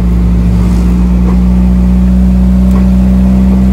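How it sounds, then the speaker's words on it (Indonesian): A loud, steady truck engine roars in second gear while descending the long, steep Cangar–Pacet mountain road, its low drone continuous and close throughout, with no speech. "Nah, ini aja gigi 2 kayak gini ya, sampai meraung-raung mesinnya."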